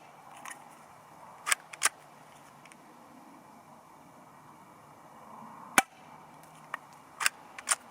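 A CZ75 SP-01 Shadow airsoft pistol fires sharp, dry single snaps at an irregular pace during an outdoor target session, several shots spread across the stretch against a faint, quiet background.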